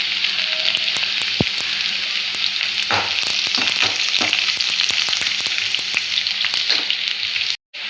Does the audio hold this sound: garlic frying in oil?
yes